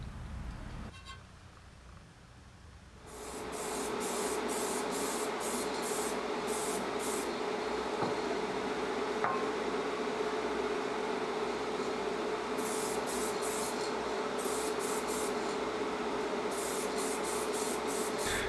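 A spray can applies satin clear coat to guitar effects pedals. After a quiet start, a steady, close hiss begins and holds for the rest of the clip, with faint intermittent squeaks above it.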